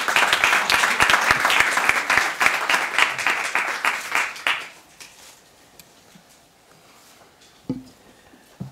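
An audience at The New School applauds to welcome Professor Walzer for a lecture, with steady, full clapping for about four and a half seconds that then stops, leaving faint room sounds.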